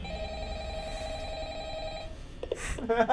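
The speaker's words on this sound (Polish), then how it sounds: "no w ogóle tu telefon dzwoni" Telephone ringing in the horror video game Five Nights at Freddy's, a steady electronic ring tone held for about two seconds against a low hum, followed by brief noisy clatter near the end.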